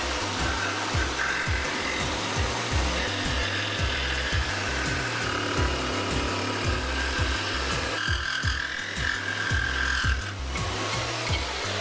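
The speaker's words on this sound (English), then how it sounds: "jigsaw is probably not the best tool in the world for this, but it gets the job done." A jigsaw trims the small wooden feet of a table, producing a close, rapid rhythmic chatter of the reciprocating blade that runs continuously with slight shifts in pitch as it cuts, and no one speaks.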